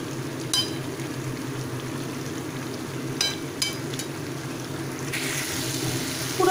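Pui shak chorchori, a vegetable dish, cooking on a full gas flame as its water dries off, giving a steady soft sizzle with a few clinks of stirring.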